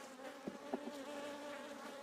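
Honey bees at a weak beehive holding only a handful of bees give a soft, steady buzzing hum, faint and close, with a few brief louder buzzes as individual bees fly past.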